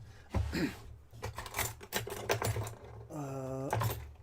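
Drawers being searched through while building a 1/35 scale Tamiya Universal Carrier model: close clattering, rattling and rubbing of small objects in bursts, with a brief squeaky tone near the end.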